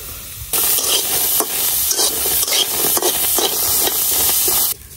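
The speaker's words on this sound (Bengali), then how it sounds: "রসুন পেঁয়াজও কিন্তু আমি শুকনো খোলাতেই ভাজা নিতেছি তেল টেল দিই নাই" Onion and garlic dry-fried in a pan without any oil, giving a steady loud sizzle that runs unbroken for several seconds and is broken up by repeated stirring scrapes.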